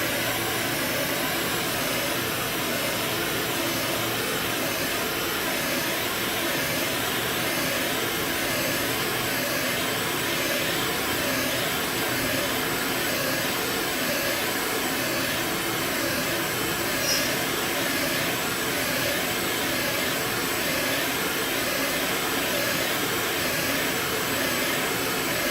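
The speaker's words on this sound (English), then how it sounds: "Turn your heat gun on high" A heat gun blows on its high setting, a constant broadband whoosh that stays level and unbroken for the whole stretch, fairly close and with no voices.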